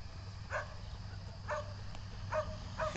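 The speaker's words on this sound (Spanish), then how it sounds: "Aguante los perritos." Dogs at the ruins of the Carmelo dog pound barking at a distance, four sharp separate barks spaced about a second apart over a low background hum.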